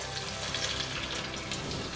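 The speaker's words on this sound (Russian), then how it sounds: "Как только слегка обжарились наши пельмени, добавляю сметану." Close, steady sizzling of dumplings frying in a cauldron-style kazan, a dense crackling hiss with no speech.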